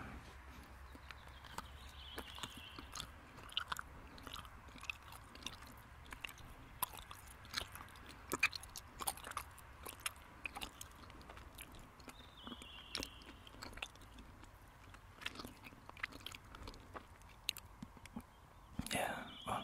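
Close, quiet chewing of strawberry-flavoured Swedish candy with soft wet crunches and bites repeating steadily over about twenty seconds in a hushed setting.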